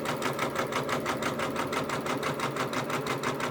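A Janome embroidery sewing machine stitches steadily in a hoop, a rapid, even mechanical chatter of needle strokes repeating at a fast regular rhythm, close and fairly loud, with no talking.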